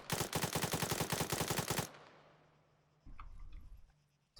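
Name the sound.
gunfire while lying prone in video game Arma 3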